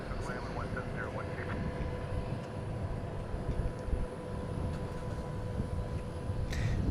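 A jet aircraft landing at DFW International Airport produces a steady, distant engine roar that continues throughout, with a person speaking over it.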